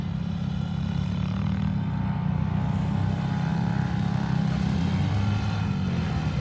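Polaris Scrambler 500 ATV in four-wheel drive riding on sand dunes, a loud, steady low engine drone that runs throughout without pauses.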